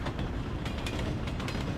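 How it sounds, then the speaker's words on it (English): Moving train carriage at steady speed, a continuous low rumbling roar from inside with faint rhythmic rattles and clacks, moderately loud and unbroken, no speech. "Imagine you're traveling with Einstein in a train moving at a certain uniform speed."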